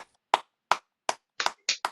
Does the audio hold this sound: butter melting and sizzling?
no